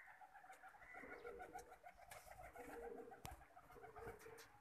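Pigeons cooing repeatedly in a steady, rhythmic series, fairly close and moderately loud, with soft outdoor background noise and no talking; birds in Faisalabad.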